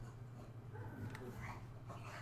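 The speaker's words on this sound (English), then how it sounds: "He hears another dog outside, and he's not pleased." Moby, a pet dog, gives faint whimpers and soft muffled barks over a steady low hum, sounding a little distant with no voices.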